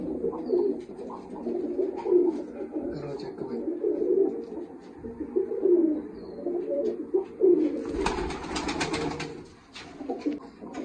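Pigeons, kept racing birds, coo in soft, repeated rounds at close range, while someone speaks over them at intervals and a brief scuffling burst of noise comes near the end.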